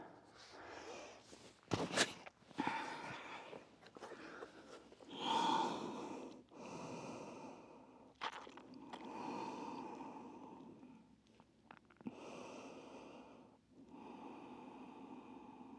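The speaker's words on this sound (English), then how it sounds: "Take 3 nice long breaths here." Slow, deep breathing during a gentle relaxing stretch with the thumbs at the back of the neck: several long, close inhales and exhales with soft sighing and snorting air sounds, quiet and unhurried, no talking.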